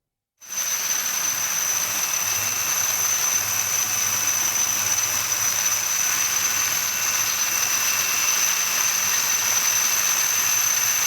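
A steady, loud roar of Indian Coast Guard helicopter turbine noise with a high whine during food packet drops, continuous from start to finish with no voices.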